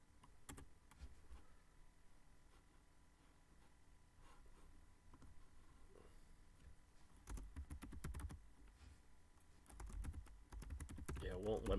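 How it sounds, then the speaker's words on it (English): Typing on a computer keyboard comes as bursts of quick, close key clicks, sparse at first and then denser toward the end, over a quiet room hum with faint speech-like sounds in places. "I'm going to type that in if I can"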